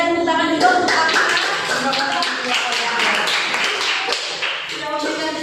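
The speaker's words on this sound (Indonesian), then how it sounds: "Berikan tepuk tangan juga untuk Akmal." Classmates clap for a student in a classroom, a lively round of many hands under a teacher's voice, with bright overlapping claps throughout before it tapers near the end.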